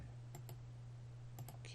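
Two pairs of faint, crisp computer mouse clicks on a quiet desk, separated by about a second, over a low steady hum.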